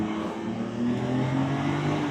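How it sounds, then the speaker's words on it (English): A turbocharged V6 car engine revs in a low, steady drone that swells slightly partway through, moderately faint and heard alone without talk. "Ooh, listen to that V6. It's not a naturally aspirated engine though."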